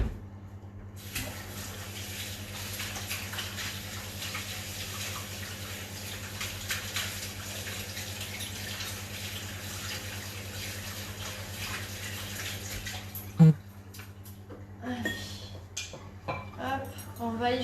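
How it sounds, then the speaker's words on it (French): Tap water runs steadily into a kitchen sink while hands are washed, one bright clink landing near the end before the flow cuts off and some faint handling sounds follow. "Je me lave les mains"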